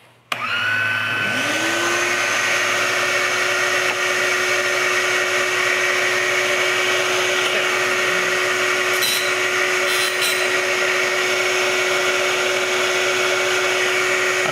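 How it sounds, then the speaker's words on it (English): A plug-in household vacuum cleaner starts up after a brief click to suck up sawdust, its motor rising to a steady, loud whine that drones on continuously with a constant high-pitched hum. "This is my regular vacuum. Just plugs in. It's going to pull out all the sawdust."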